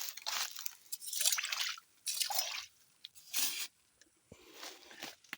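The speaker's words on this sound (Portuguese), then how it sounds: "Aqui temos uma fonte perene" Water from a perennial spring in the Mata Sul region of Pernambuco trickles and drips in irregular soft splashes and gurgles, quiet and close, with no voices.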